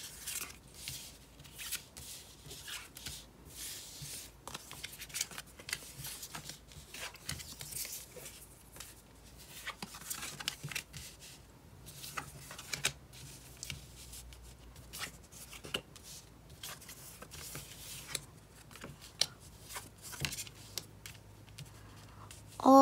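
Tarot cards shuffled and drawn close by, with a long run of soft rubbing slides, papery flicks and light taps in an irregular rhythm, quiet and without talk.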